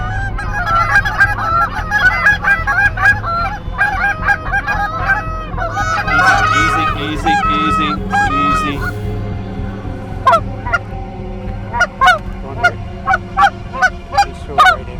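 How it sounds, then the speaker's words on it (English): A flock of Canada geese comes in during an Ontario hunt, loud overlapping honks and calls building in waves, then sharper separate honks near the end; a voice speaks briefly. "More honkers come in waves, a long string of geese on the horizon."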